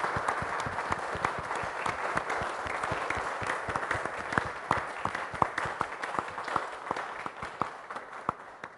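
A church congregation applauding a newly ordained pastor at an ordination service, continuous clapping with distinct sharp claps standing out through the crowd, steady and moderately loud.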